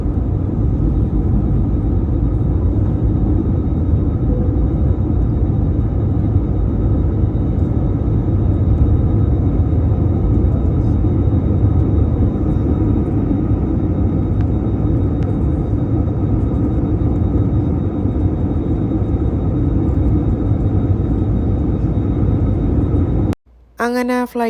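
An airliner takes off on a flight from Kochi to Dammam, heard from inside the cabin as a loud, steady, low engine roar that continues unbroken before cutting off abruptly.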